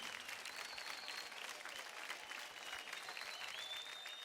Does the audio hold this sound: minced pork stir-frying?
no